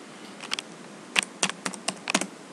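Keys on a computer keyboard are tapped close by in a short, irregular run of crisp clicks, with no talking over them.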